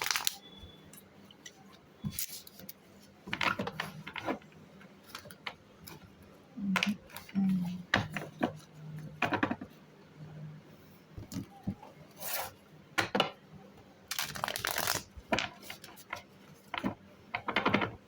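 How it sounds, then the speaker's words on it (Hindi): Tarot cards are shuffled by hand up close, a quiet run of soft riffling, tapping and rubbing bursts at uneven intervals. "2 बार और शफल करती हूँ और हम शुरू करते हैं।"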